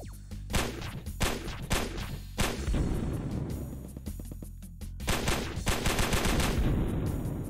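Rapid gunfire from a Squid Game-themed shooter video game, dense bursts of shots with heavy booms running continuously and loudly throughout, no voices.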